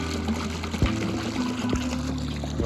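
Water gushes steadily from a pump motor, a continuous close hum and rushing flow with a few soft knocks and splashes.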